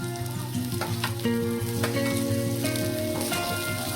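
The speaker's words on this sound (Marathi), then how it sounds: "आता आपण त्याच्यामध्ये कट केलेला टोमॅटो टाकणार आहोत" Chopped tomato goes into onions frying in hot oil for street-style masala Maggi noodles, producing a loud, steady close sizzle with stirring clinks and scrapes throughout, no voices.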